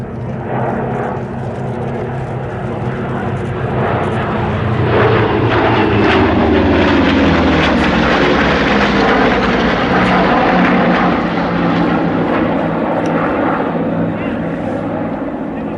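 Several propeller aircraft, about 6,000 horsepower combined, sweep past from left to right at the Sywell airshow. A loud, sustained engine roar builds and fades with a rising-then-falling drone, while a commentator talks over it.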